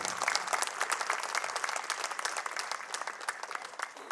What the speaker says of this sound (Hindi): तो सचमुच उनके लिए ताली की गड़गड़ाहट होनी चाहिए।